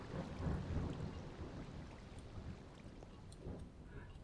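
Video game thunderstorm, a low rumble of thunder at the start fading into steady rain, fairly faint and distant.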